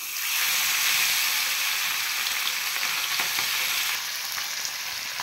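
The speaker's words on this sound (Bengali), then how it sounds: "তেল গরম হয়ে গেছে। এবার আমি মাছটা মেখে নিয়েছি, এই মাছটা এবার আমি দিয়ে দেব।" Marinated puti fish fries in hot oil on a tawa, making a steady, close, bright sizzle throughout that eases slightly toward the end, with no speech.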